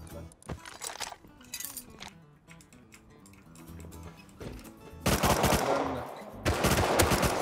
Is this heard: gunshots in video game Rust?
yes